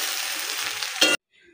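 Turmeric, chili, coriander powder, garlic and ginger paste frying in a pan with rice and lentils for khichuri, a steady close sizzle that cuts off abruptly after about a second, followed by a faint brief clatter.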